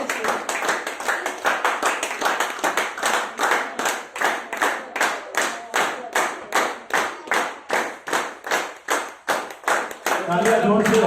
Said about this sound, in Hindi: तालियां जोर से, तालियां उनका उत्साह बढ़ा सकती है, जोरदार तालियां